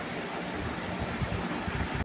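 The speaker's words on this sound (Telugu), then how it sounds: "స్టవ్ ఆన్ చేసేసుకుందాం." A gas stove burner in a home kitchen roars with a steady, close, broadband hiss that continues evenly, then cuts off abruptly at the very end.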